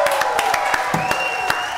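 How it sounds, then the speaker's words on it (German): Brief burst of audience applause for a guest on a German song-guessing show, with sharp claps standing out over a steady wash of sound. "Großer Applaus für Marc Eggers."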